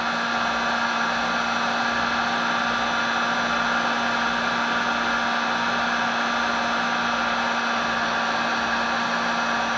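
Heat gun warming glue-lined heat shrink tubing during a ham radio antenna build, a loud, steady blowing hum with a constant motor whine that holds unchanged throughout, with no talking.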